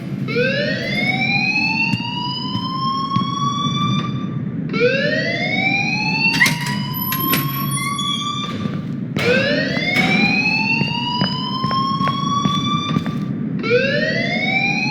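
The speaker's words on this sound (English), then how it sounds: "please turn off that alarm since that's your job" A school fire alarm in the Life is Strange video game wails loudly in repeated rising siren sweeps, with sharp electronic bursts between cycles, continuous and close.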